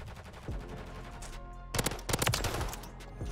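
Rapid automatic gunfire in Modern Warfare 3, loud close bursts of shots with a pause midway, then a heavier cluster of shots, with no talk over it.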